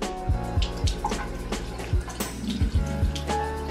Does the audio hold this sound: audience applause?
no